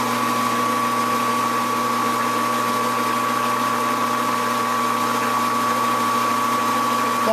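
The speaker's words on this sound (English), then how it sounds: "basically what we're doing is we're reaming this thing until the stop collar makes contact" A chamber reamer cuts into a hunting rifle barrel, giving a steady, continuous tonal drone with a constant hum and no breaks, close and fairly loud with no voices.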